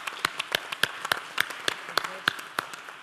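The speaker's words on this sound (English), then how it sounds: "So let's give Joseph a nice round of applause." Scattered, distinct claps at a start-up panel event in Austin, a small audience clapping unevenly with each clap standing out crisply against quiet room tone.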